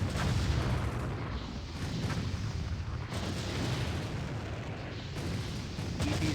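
Howitzer artillery fire in the real-time strategy game Empire Earth during a Russian campaign battle, a loud, continuous barrage of overlapping booms and blasts with no pauses.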